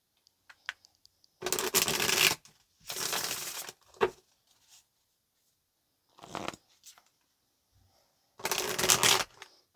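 Tarot cards are shuffled close by in several short, riffling bursts separated by quiet gaps, with a few faint taps and card handling in between.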